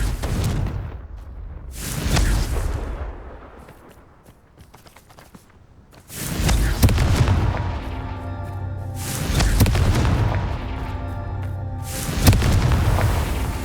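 Confringo blasting spells detonate in the video game Hogwarts Legacy as a series of heavy, booming explosions, each a loud, rumbling burst spaced a few seconds apart, with a quieter lull between.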